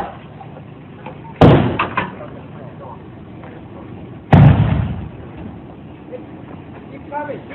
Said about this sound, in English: They sounded like someone trying to batter down the door.